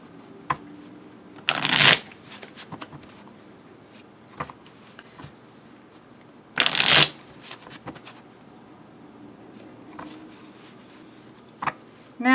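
Thin Once Upon a Time playing cards are riffle-shuffled in two loud bursts of fluttering card noise, separated by quieter taps and handling sounds.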